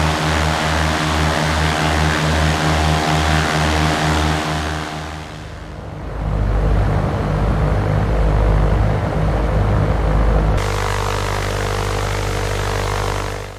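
Light aircraft climbing away after a touch-and-go landing on runway 08, a loud pulsing propeller engine drone that dips briefly, then returns as a strong broadband roar with abrupt level shifts.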